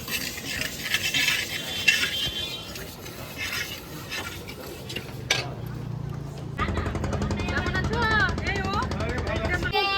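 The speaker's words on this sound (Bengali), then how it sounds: "এখানে এখন ডাল ফ্রাই করা হচ্ছে" Dal fries and gets stirred in a pot at an outdoor riverside picnic on the Bhagirathi. A steady scraping, sizzling hiss runs throughout with metal clatter. Voices and busier sound come in over the second half.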